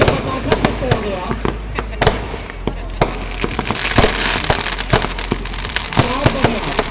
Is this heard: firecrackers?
yes